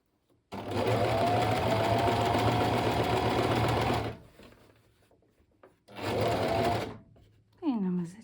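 A sewing machine stitches in reverse while a lining goes into a crochet bag, running in a long steady burst, pausing, then a shorter second burst, with quiet handling noises between and faint talk.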